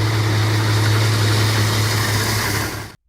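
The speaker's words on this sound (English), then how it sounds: "The John Deere 466 engine represents agricultural diesel engineering at its" A John Deere 466 inline-six agricultural diesel engine runs at a steady idle, a loud, continuous low drone with a strong hum and vibration that holds evenly before cutting off abruptly near the end.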